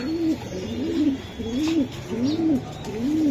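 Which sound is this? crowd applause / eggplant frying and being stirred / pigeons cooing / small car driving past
pigeons cooing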